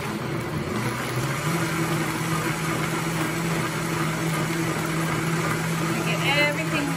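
A Vitamix blender runs steadily while blending hot sauce, a continuous loud whirring motor drone with no breaks throughout.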